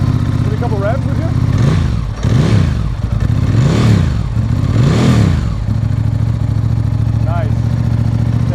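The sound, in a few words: motorcycle engine revving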